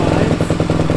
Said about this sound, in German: Motorrad läuft.